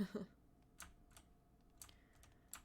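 Typing on a computer keyboard during an art stream: a few scattered, sharp key clicks at irregular intervals, fairly quiet and close, with no talk over them.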